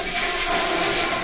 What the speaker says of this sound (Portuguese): Então vamos dar descarga e vamos fazer o teste.